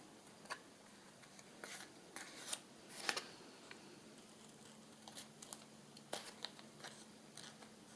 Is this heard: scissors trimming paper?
yes